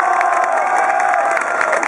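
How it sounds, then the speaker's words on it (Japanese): A street rally crowd in Shibuya cheers and applauds at a political speech, a loud continuous roar of voices and clapping in open air. "拍手をお迎えください。"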